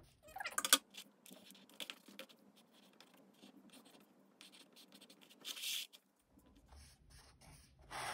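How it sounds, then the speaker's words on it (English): Pencil writing on paper for a children's art project, a soft scratchy graphite rub with intermittent strokes and brief louder scrapes, close and quiet with no talking. "I'm going to choose a word and start writing them in pencil."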